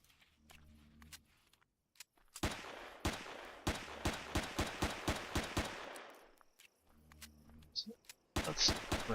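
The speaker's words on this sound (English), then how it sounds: "It's going to shoot me again." Rapid volleys of gunfire in the sci-fi survival game Empyrion - Galactic Survival: a sustained burst of evenly spaced shots, then a short pause and a second cluster of sharp reports near the end.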